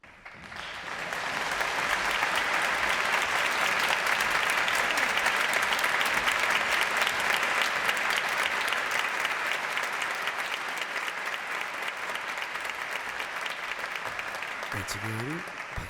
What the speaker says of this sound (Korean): 박수가 계속 나오는데 소프라노 강혜정님의 공연 실황을 틀어드리고 있습니다.